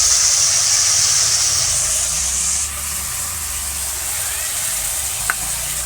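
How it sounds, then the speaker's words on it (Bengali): Potatoes frying in oil in a pan in a village kitchen give a steady, close bright sizzle that softens slightly partway through, with a brief clink near the end. "তাই আলু ভেজে দিচ্ছি"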